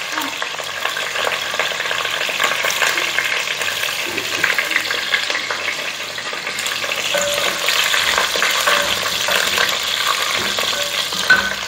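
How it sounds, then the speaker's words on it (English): Ginger slices frying in hot oil in a pan for Penang-style fish curry, a steady dense sizzle running continuously at close range without a break. "I'm going to add ginger slice."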